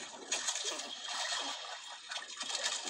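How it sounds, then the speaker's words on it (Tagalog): Strong river current rushing past, a steady broad wash of flowing water with surging bursts, close and continuous with no talk. "Lakas ng agos."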